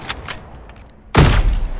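Gunfire in the video game Fragpunk: a couple of faint shots, then a sudden loud burst of close firing that lingers to the end.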